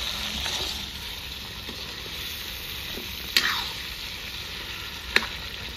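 Mutton for a Rajasthani jungle mass dish, cooked village style, fries in oil with a steady, close sizzling hiss. Two sharp clicks or pops cut through it.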